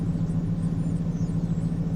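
A car engine idling steadily, a low even rumble with a faint high whine on top, close and continuous with no speech.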